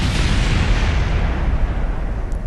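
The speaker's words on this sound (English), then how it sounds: "What made the engine blow up was kind of secondary explosions." A rocket engine blows up in Kerbal Space Program, giving a loud, sustained roaring blast of dense low rumble that stays strong for a couple of seconds before easing slightly.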